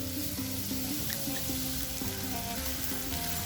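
Onions sautéing in a pan for a Kerala prawns and egg curry, a dense, continuous sizzle with faint crackles and soft utensil scrapes, close and steady throughout.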